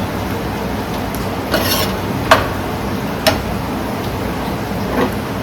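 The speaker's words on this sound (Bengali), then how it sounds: "এতে মশলাগুলো সমেত পেঁপেটাও ভাজা ভাজা হবে আর মশলাগুলো সব কষে যাবে" Papaya stir-fries with spices and a splash of water in a pan alongside prawns, a low steady sizzle under repeated scraping strokes and a few sharp metallic clinks of a spatula against the pan.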